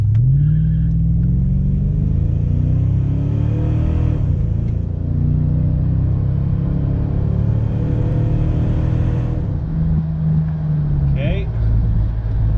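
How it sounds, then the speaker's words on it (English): A car engine on big rear tires is revved up to about 1500 RPM, holding a steady rumbling drone that shifts pitch mid-way, close and loud, with talk over it. "rev it up to about 1500"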